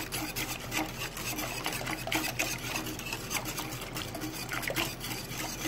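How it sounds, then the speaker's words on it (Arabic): A wire whisk scrapes and swishes steadily through a pot of seafood shrimp soup, a continuous close rasping and stirring sound with no speech. "ابدأ اقلب بالمضرب السلك بتاعي كده"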